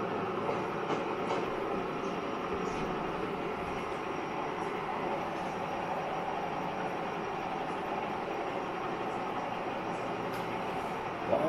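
Freight train running in Train Simulator on the Cajon Pass line, a loud, steady rumble and rolling roar that holds unbroken for the whole stretch, with a faint voice briefly in the background.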